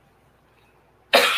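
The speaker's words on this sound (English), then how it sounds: "hold on, I got a cough." One abrupt, loud cough bursts out near the end after near silence, close to the microphone.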